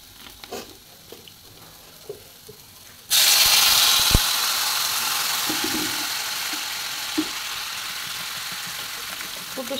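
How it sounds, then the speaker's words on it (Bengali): Water poured into a pan of fried potato and pumpkin curry sets off a sudden loud, steady sizzling hiss after a few seconds of quiet stirring and clinks, then slowly eases off. "এটা ভালো করে ভাজা ভাজা হয়ে গেছে, এবার এর মধ্যে জল দিয়ে দেবো।"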